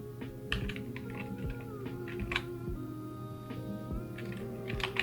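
Keystrokes on a computer keyboard while Python code is typed, a steady run of quick, close clicks with brief pauses, over a constant low hum.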